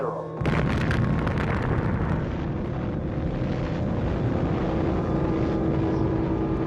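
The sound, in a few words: first atomic bomb explosion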